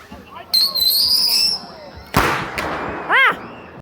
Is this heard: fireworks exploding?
yes